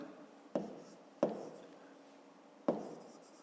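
Pen strokes on paper during a fifth-grade maths exercise, three short sharp scratching taps spaced about a second apart, close and fairly quiet, with no talking.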